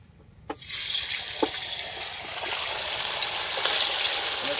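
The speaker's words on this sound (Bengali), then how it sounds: "এবার আমরা অল্প অল্প করে পনিরগুলোকে ভেজে নেব।" Paneer pieces go into hot oil and a sudden crackling sizzle starts, holding steady and growing slightly louder, with a couple of faint clinks from the pan.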